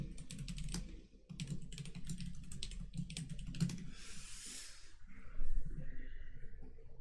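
Someone types on a computer keyboard, entering a Linux update command, with quick rapid clacking keystrokes in close, steady bursts before a short rustle and a brief pause near the end.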